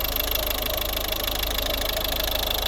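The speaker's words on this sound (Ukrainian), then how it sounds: "Ну от робота двигуна." A 2011 Volvo V50 R-design with a 1.6 diesel engine idles steadily, a constant even rumble with a faint rhythmic knock heard up close and alone.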